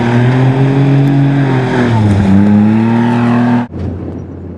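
A loud John Deere Gator off-road vehicle engine revs at high, steady pitch while drifting, with rising and falling tones, then cuts off abruptly near the end, leaving quieter rumble.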